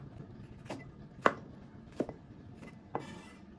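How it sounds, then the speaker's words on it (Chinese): Mild chili peppers sliced with a knife on a cutting board, a few sparse, distinct chops with pauses between them, close but fairly quiet against a low background hum, no talking. "先切这个辣椒，这个辣椒用来炒豆腐"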